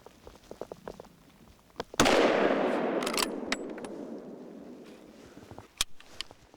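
Three very fast rifle shots ring out during a hunt in Hungary. A loud, sharp crack is followed by a long echoing roll and a few quicker reports.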